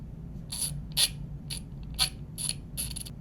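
A Leatherman ratchet multitool clicks in a series of sharp, quiet metallic ticks at a roughly regular half-second rhythm, with a faint low hum underneath and no talking.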